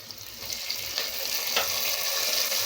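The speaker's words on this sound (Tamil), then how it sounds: "இப்போ நம்ம தக்காளி போட்டுக்கலாங்க." Tomatoes dropped into a pan of frying shallots for mutton kuzhambu, giving a steady close sizzle with soft stirring scrapes.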